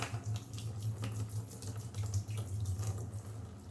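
Water poured over a toolbox to mimic rain makes a soft, continuous splashing and trickling, fairly faint, with small fluctuations and no talking.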